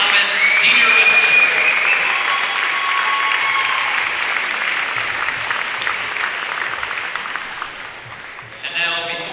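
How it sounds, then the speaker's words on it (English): Loud audience applause and cheering fills a wrestling tournament arena after a senior wrestler is introduced, sustained for several seconds before slowly thinning out, with faint talk and crowd noise beneath. "Let's have a big round of applause for our Mason Comet senior wrestler."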